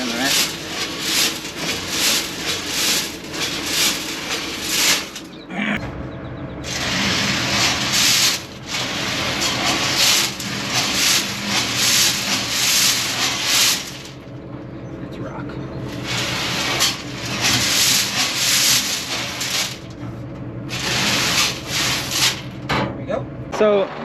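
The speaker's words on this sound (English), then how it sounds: "So the drill we're using today is an Esch no-till 5612." An Esch no-till 5612 seed drill, 12 feet wide, planting beans: a loud, continuous mechanical rumble and rattling hiss in long stretches broken by brief drops, close by, with voices talking over it.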